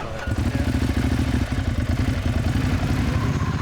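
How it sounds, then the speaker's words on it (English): Ducati Hyperstrada motorcycle engine running with a steady, throbbing mid-pitched drone, close and continuous throughout. "So I picked up a Ducati Hyperstrada. Its engine is a monster."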